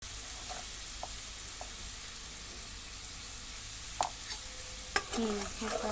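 Onion cooks in oil with turmeric and salt as the start of a small-prawn curry, a faint, steady sizzle with scattered spoon taps and scrapes against the pan, quiet and close.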